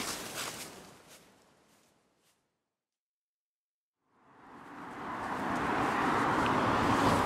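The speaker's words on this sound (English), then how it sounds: "Pardon the traffic, I'll try not to talk over it too much." Road traffic near Sayama Lake in Saitama, Japan: one car's rush fades away into a few seconds of silence, then another vehicle swells in and roars past loudly and steadily.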